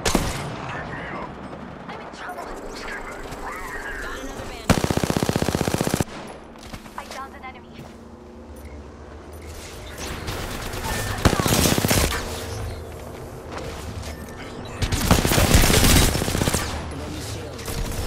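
Bursts of video game gunfire, rapid fusillades and machine-gun style volleys, crackle repeatedly across a chaotic battle soundscape, with loud clusters near the middle and end while players talk over the action.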